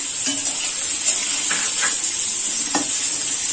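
Coconut, ginger and garlic dry-roasting in a pan give a steady bright sizzle throughout, with a few soft scraping stirs of a spoon against the metal; no one talks.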